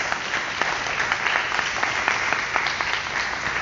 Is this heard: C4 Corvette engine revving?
no